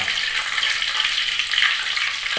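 Pomfret fish frying in hot oil with fish sauce, a dense, loud, continuous sizzle close by with faint crackles and no talking over it.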